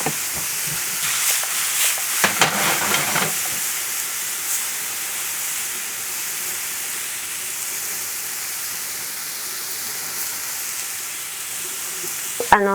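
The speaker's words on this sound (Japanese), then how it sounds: "水分をどんどん飛ばしながら 焼き色をつけるという感じの炒め方で炒めています" Mushrooms stir-fried hard in a frying pan for hashed beef rice, giving a steady close sizzle and hiss throughout, with a few clattering stirs early on and a brief knock at the end.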